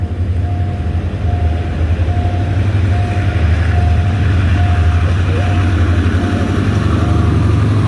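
A heavy freight train pulls in and stops nearby on the Rama–Bang Sue line in Thailand, deep continuous engine drone with rhythmic clatter and a faint tonal whine, loud throughout.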